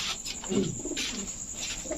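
A Khulna red-necked pigeon gives a short, soft, low coo close by, with faint background hiss and no talk.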